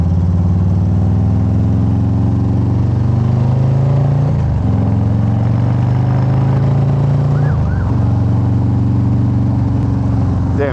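Harley-Davidson motorcycle engine running loud and close, a steady low harmonic drone with two brief dips where the revs shift, continuous throughout with no talk.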